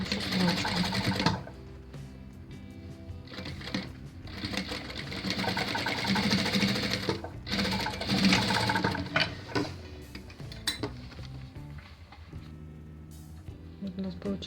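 Sewing machine stitching a seam across bubble puff quilt fabric pieces, a steady close mechanical chatter that runs most of the time, briefly pausing and restarting, with some light background sound.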